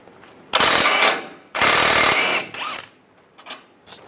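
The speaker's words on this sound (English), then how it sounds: "Take this bolt out here. Use a 16mm socket." Power tool fitted with a 16mm socket loosening a bolt on the front suspension of a 1998-2010 Volkswagen Beetle, two loud close bursts of rattling impact followed by a few shorter, fainter whirs and clicks.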